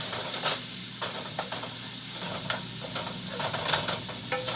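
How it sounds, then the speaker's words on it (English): Onions frying with seasoning in a pan give a steady close sizzle and hiss, broken by a few sharp scrapes and stirring clatters, with no talking. "after about 5 minutes of frying the onions up"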